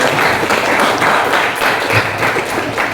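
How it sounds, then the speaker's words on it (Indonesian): Applause from an audience in a university Islamic studies class, dense and steady clapping filling the whole span at close range without any voices over it. "Oke, kasih aplaus."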